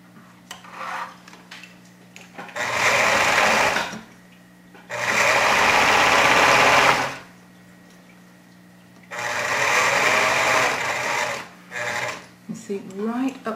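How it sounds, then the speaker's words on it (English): A sewing machine stitches a waistband down in bursts, three loud runs of fast, whirring stitching separated by pauses, with a person talking between them. "you will be sink stitching the rest of the waistband down"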